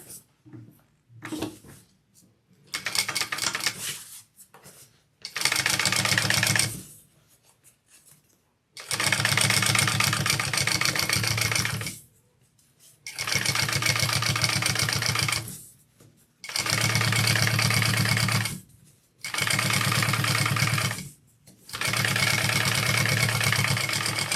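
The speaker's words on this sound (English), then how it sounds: "now you're going to top stitch on the lining" Sewing machine top stitching on a handbag lining beside a zipper, loud and close in several long runs of steady mechanical whirring separated by brief pauses, with a few short stitches and handling noises at the start.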